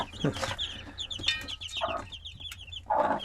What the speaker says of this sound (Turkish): bu civcivlerimiz güzel koyduğumuz yemleri yiyecekler arkadaşlar